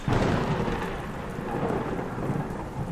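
Steady, heavy rain pours down on a cold night, with a low rumble of thunder rolling beneath the dense hiss, constant and close throughout with no voices.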